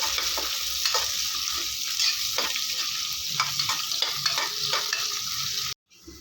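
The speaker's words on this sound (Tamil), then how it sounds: "இதை நல்லா வதக்கிக்கலாம்" Whole green chillies sauté in hot oil in a pan for kuska, a steady close sizzle with scattered stirring clicks and scrapes, no talking, cutting off abruptly near the end.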